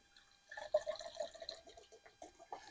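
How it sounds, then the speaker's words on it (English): Water is poured for pour-over coffee into a container before going to a canteen cup, giving a close, trickling and splashing stream with bright gurgles that rise after a short quiet start. "we will be putting enough water in this and then transferring it to the"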